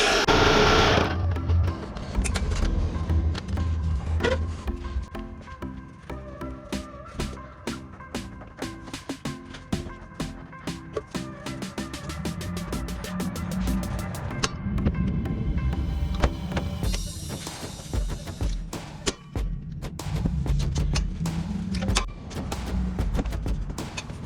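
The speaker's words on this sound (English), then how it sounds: "we'll see if we can get the Sawzall" A Sawzall reciprocating saw cuts an exhaust pipe on a Volvo S40i 2.4, a fast buzzing, chattering motor heard close in uneven bursts with metallic rattles.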